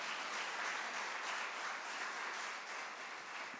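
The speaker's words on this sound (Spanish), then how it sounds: "Denle un aplauso, Señor, por cada uno de los líderes." A church congregation claps steadily in sustained, dense applause that fills the room at a moderate level, with no voices standing out.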